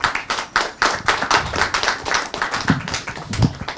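A small audience at a conversation event in Delhi claps, a loose, uneven patter of individual hands with distinct slaps and some rhythmic clusters, fairly close and continuing for several seconds.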